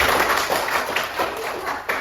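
A classroom gives a round of applause for a student group, a short burst of many hands clapping unevenly with some thumping taps.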